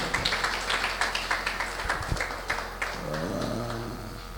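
A seminar audience at an entrepreneurship workshop claps in a steady patter of hands for about three seconds, then the clapping fades into the background hum of the hall.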